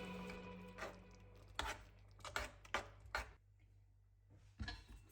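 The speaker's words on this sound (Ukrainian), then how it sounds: "Декілька шматочків гарбузи я залишила і нарізаю дрібно" Several sharp knife strikes against a cutting board as pumpkin is chopped into small pieces, irregular and close, with quieter gaps between bursts of chopping.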